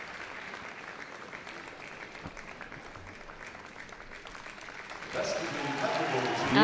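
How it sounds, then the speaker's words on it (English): A crowd at Crufts applauds a Labrador Retriever in the gundog group ring, with steady clapping across the arena that swells louder toward the end, while a commentator talks over it. "And an enthusiastic applause from the crowd."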